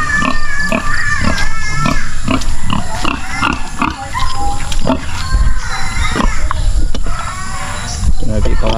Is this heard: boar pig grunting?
yes